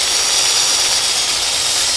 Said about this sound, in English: to clean these top posts, I use this wheel on here